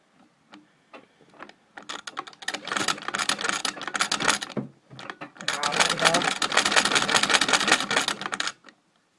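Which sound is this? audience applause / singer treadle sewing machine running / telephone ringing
singer treadle sewing machine running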